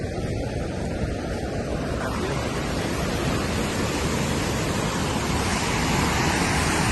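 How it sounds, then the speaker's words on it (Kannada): A hidden waterfall thunders nearby, water rushing and splashing with great force in a loud, continuous roar that never lets up. "ನೀರು ಫೋರ್ಸ್ ಇಲ್ಲೇ ಸಿಡಿತೈತೆ"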